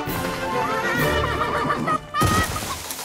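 A horse whinnies loudly and close with a shrill, wavering neigh, with clip-clop hoofbeats and a crash-like thump during a knight adventure scene.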